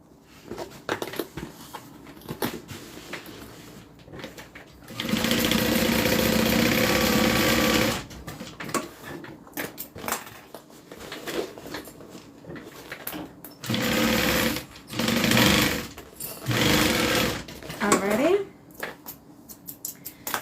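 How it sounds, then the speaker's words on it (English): A sewing machine stitches seam allowances of layered fabric flat in several bursts, a loud steady whirring hum that runs for a few seconds at a time, separated by pauses with handling sounds and a voice speaking between runs. "opening them up and sewing them down flat"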